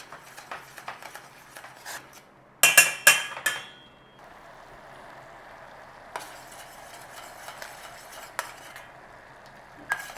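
Chutney for vada pav cooks in a pan on a low flame, with a steady scrape-and-stir of a utensil, a brief clattering knock partway through, then a soft continuous sizzle under occasional taps.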